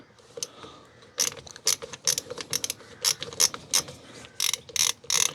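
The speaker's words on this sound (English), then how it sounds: "what I can do is loosen that off just with an ordinary Phillips screwdriver via that screw there" A Phillips screwdriver loosening a clip screw on a Nissan Micra K11 during a fuel filter change gives a close, dry series of ratcheting clicks in uneven bursts, with no talk.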